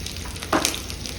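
Urad dal and mustard seeds hit hot oil, giving a sudden close burst of sizzling and crackling that settles into a steady frying hiss.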